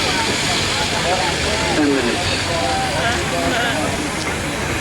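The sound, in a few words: steam engines hissing at steam rally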